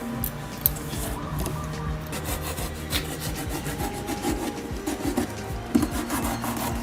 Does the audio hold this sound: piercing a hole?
yes